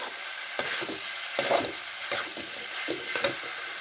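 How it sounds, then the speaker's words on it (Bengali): A spoon or spatula stirs a poppy seed and potato curry in a pan, giving intermittent scraping strokes over a soft, steady sizzle with no voices. "এখন একটু মিক্স করে দেবো।"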